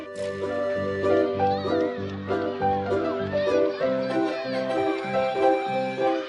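A voice imitates a cat, giving a string of repeated, pitched meows over about six seconds during a children's chasing game, with other children's voices mixed in.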